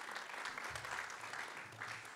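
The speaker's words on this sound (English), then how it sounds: "Give him a round of applause because that kind of makes people feel good." Faint audience applause at a business welcome event, a soft scattered patter of clapping lasting about two seconds, with low murmuring voices beneath.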